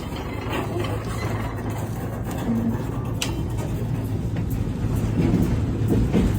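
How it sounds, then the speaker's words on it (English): An old rusted, weathered train with wooden parts moving in reverse along an abandoned railway gives a steady low rumble with occasional clanks, fairly distant and growing slightly louder toward the end. "It was an old train, rusted and weathered, with parts of it made from wood."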